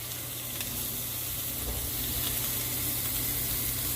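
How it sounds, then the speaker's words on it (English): Butter sizzles in a hot cast iron skillet for a ribeye, a dense, steady frying hiss that holds at an even level throughout with no talking. "We're going to take these tabs of butter that I just took out. We're going to put them in that skillet like that."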